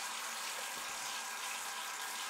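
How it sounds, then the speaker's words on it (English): Water from a tap runs steadily into a sink at a homestead, a soft, continuous hissing flow heard fairly faint and close, with no voices. "I'm going to run the water"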